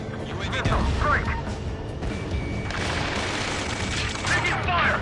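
Video game battle gunfire with a chopper nearby, rapid overlapping shots and booms filling the scene at close range, under shouted combat voices.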